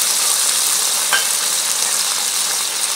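Ground ginger, garlic, cumin and black pepper paste with green peas and tomato frying in a pan, a loud continuous hiss of sizzling oil with a brief scrape of stirring midway.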